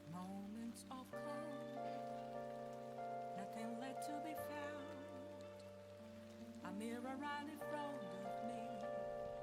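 Steady rain ambience in the card game Hearthstone, hissing continuously beneath a louder melodic music track with sustained tones, with no break across the whole stretch.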